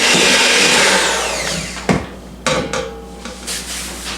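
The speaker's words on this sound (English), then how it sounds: "And we'll just cream that together." Butter, sugar, egg and lemon zest creamed together with an electric mixer, a loud whirring drone that fades out, followed by a few sharp knocks and clatters of the beaters against the bowl.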